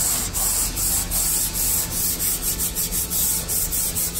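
Hand rubbing down a faux concrete finish on a painted wall, a steady, close scratchy abrasion repeating in regular back-and-forth strokes about twice per second.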